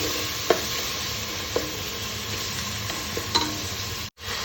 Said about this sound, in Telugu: చిన్నవి రెండు టమాటాలు వేసి మంచి మగ్గింత వరకు ఫ్రై చేసుకోవాలి టమాటో స్మాష్ అయిపోవాలి